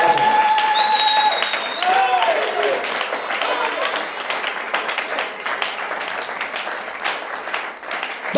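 Church congregation applauding and cheering, a broad continuous wash of clapping and voices that stays loud throughout, with brief high whistles or shouts near the start.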